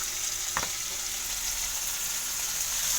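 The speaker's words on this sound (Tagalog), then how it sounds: "Ilagay natin ang sibuyas." Garlic and onion frying in a pan as the base for a soup, a steady, dense sizzle that stays level throughout, with one brief clink early on.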